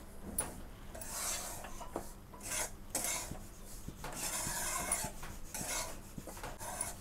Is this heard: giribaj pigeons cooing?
no